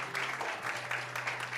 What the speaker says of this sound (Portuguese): Você poderia aplaudir o Senhor, queridos?